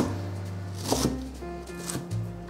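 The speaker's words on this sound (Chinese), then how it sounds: "把高丽菜换一个方向切短一点" A knife chops shredded cabbage crosswise into shorter pieces on a cutting board for a vegan dish: a few crisp, uneven cuts over steady background music.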